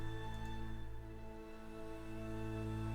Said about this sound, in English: I have added a couple of string sounds, cello drones from a library that I recently bought